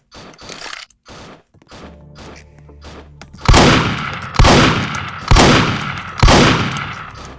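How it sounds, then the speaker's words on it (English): Gunfire in a Roblox game: a few scattered small shots, then four heavy, evenly spaced blasts of exploding bullets, loud and close, each with a ringing decay. "I have so many bullets exploding"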